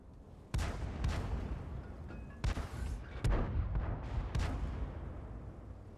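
Tank cannon shots in a tank video game crack out in a series of sharp, booming blasts, about six of them at uneven intervals, each with a short rumbling tail, loud and close with no talking.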